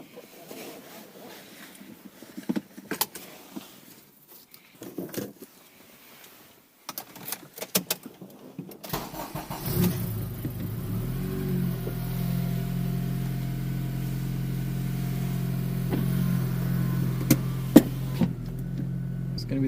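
A car fitted with a Skunk2 short shifter adapter starts up after some rustling and handling noises, then settles into a steady, close, droning idle.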